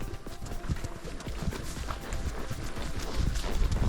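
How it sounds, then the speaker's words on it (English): Horses clip-clop along at a walk during a ride to a mountaintop in Guyana's Rupununi savannah, hoofbeats fairly close and irregular over faint outdoor ambience. "we have just ridden the horses to the top of the mountain"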